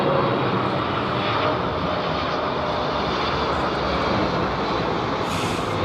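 A jet airliner takes off from London Heathrow Airport, its engines a loud, steady, broad roar that fills the whole stretch without letting up.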